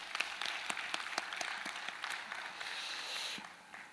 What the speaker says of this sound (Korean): 한번 박수 한번 하겠습니다